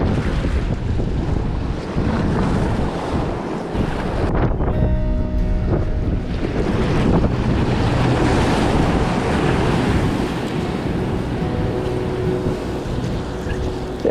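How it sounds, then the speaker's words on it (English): Ocean swell and waves wash around a small boat at sea, a loud continuous rush of surf and water with heavy wind buffeting the microphone throughout. "Bit of swell."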